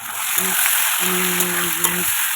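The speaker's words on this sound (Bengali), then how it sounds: "পেঁয়াজ আর টমেটো দিয়ে দিলাম এটা দিয়েও সুন্দর করে ভেজে নিতে হবে" Onion and tomato frying in a pan for a prawn and Malabar spinach curry, giving a steady, close hiss of sizzling oil with a faint tonal hum running underneath.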